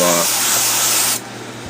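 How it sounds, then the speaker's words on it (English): A loud aerosol motor spray cleaner hisses steadily for about a second, then cuts off, leaving a quieter background hum. "spray a little motor spray,"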